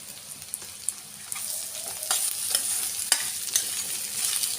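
Potatoes fried and stirred in a pan with garlic, curry leaves and browned onions, giving close sizzling with sharp scraping and clinking strokes that grow busier partway through.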